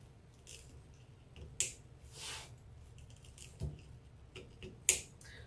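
Pliers snip wire on a flip flop deco mesh wreath, giving a few sharp, crisp clicks spread out with quieter rustling between them, close and fairly faint, no talk.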